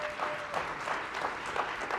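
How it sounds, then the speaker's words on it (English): A round of audience applause at a public event on disability rights in foreign policy: dense, continuous clapping from a crowd, fairly loud and even throughout. "So a huge round of applause for Tom as well."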